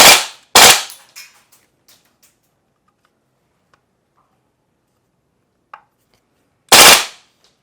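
A blowback airsoft pistol fires two sharp, loud shots in quick succession, followed by faint mechanical clicks and ticks, then a third loud shot near the end.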